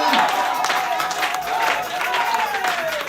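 A church congregation applauds and cheers the Lord Jesus, a steady wash of clapping and crowd noise throughout while a voice carries over the top.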